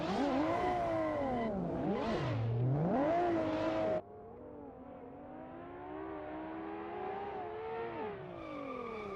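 A big BMW drift car screams on track at Road Atlanta during a drift competition, its engine loud and close, wailing up and down through revs before dropping to a steadier, more distant high-pitched drone.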